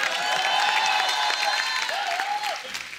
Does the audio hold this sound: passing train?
no